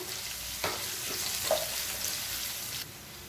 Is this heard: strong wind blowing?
no